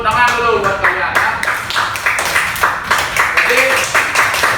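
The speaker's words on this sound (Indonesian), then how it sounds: "Tepuk tangan dulu buat kalian, ya." Classroom clapping for students after a floor gymnastics forward roll lesson, a dense patter of hands in short uneven bursts, with a voice talking over it at times.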